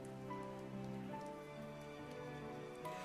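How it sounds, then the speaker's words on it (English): Steady soft rain patter runs through game soundtrack music in Dwarf Fortress, a continuous wash of falling drops under sustained musical tones, with no voices. "the soundtrack I'm playing now has this kind of nice rain effect"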